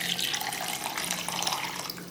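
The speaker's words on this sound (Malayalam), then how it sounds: "ഫസ്റ്റ് നമ്മൾ കരിക്കും വെള്ളമാണ് ചേർക്കേണ്ടത്" Tender coconut water poured into a ground milk and lemon mixture, a steady close splashing trickle running continuously for a couple of seconds with no talk.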